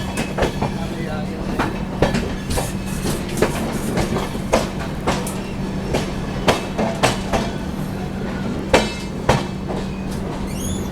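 Vaishali Express passenger train rolling on its rails near Chhapra Junction, with a steady rumble and a constant low hum under repeated rhythmic clickety-clack wheel beats, heard close and loud.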